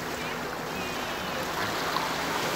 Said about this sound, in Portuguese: tá aumentando as ondas, tá?